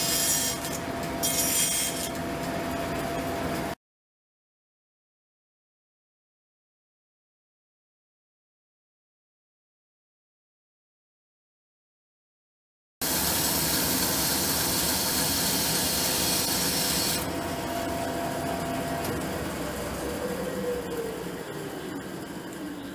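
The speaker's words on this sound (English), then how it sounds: "we'll do a little cutting here on the bandsaw to get the block roughed out" Bandsaw cutting through a wooden block to rough it out, a harsh steady rasping whine in two long stretches separated by a silent gap, close and fairly loud.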